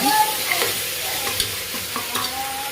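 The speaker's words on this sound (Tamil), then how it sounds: "தக்காளி வதங்க நல்லா கிண்டி விடுங்க." Tomatoes stirred and sautéed in a pan for vegetable biryani: continuous soft sizzling with repeated spoon scrapes and taps at an uneven rhythm, close and moderately loud.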